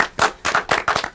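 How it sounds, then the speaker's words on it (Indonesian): A few people clap in a studio during an Indonesian presidential-debate talk show, giving sparse, loud individual claps in a loose irregular rhythm close to the microphone. "Halo, tepuk tangan lagi dong teman-teman."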